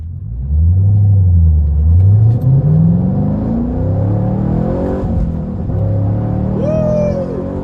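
A 2011 Chevrolet Camaro SS with a factory airbox and old tires accelerates hard, its engine note climbing through the gears with a steady loud rumble, a brief dip at a shift and a high whine near the end.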